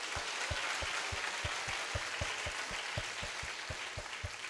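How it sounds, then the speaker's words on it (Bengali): A church congregation at a Bengali sermon claps in unison, a faint but regular beat of sharp claps, roughly four per second, over a soft background hiss. "জোরে একবার সেই মানুষগুলোর জন্য করতালি দিই।"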